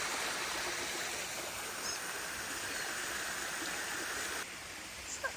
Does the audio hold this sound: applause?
no